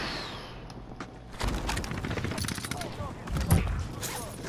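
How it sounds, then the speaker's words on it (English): Gunfire in a battle royale video game, a burst of rapid shots cracking out after a quiet start, continuing in uneven volleys over game noise and background chatter. "He's shooting me from top."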